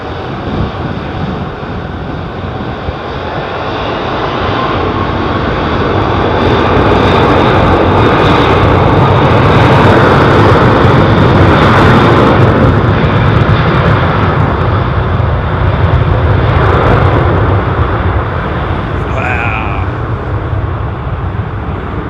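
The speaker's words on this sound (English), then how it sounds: "Very bullish departure from that 777." A Boeing 777 departs London Heathrow with a loud, sustained jet roar that builds over several seconds, holds at full power, then slowly fades, with no talk over it.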